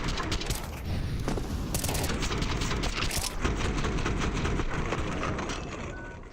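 Counter-Strike match gunfire: dense, continuous bursts of shots and clattering effects packed tightly together, loud and unbroken from start to finish.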